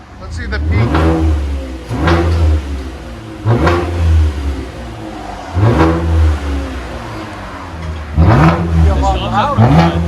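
A 2015 Chevy Impala V6 with straight-pipe dual exhaust revs toward 3,000–3,500 rpm, surging and dropping several times in a row, a deep exhaust roar over idle, with people speaking nearby.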